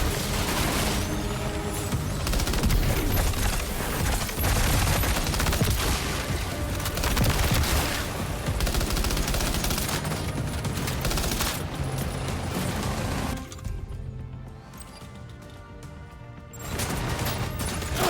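Sustained heavy gunfire from the video game Death Stranding 2: On The Beach, a loud continuous fusillade of rapid shots and impacts that runs for most of the stretch, drops to a quieter lull briefly, then resumes.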